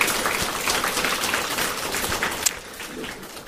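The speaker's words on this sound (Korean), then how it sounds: "우리 특별히 그분들에게 박수 한번 보낼까요?" Church congregation applauding the worship team after a Sunday service, a steady wash of clapping from a large crowd that holds evenly for a few seconds before thinning slightly.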